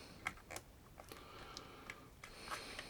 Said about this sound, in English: fire the shutter, wind on, fire the shutter,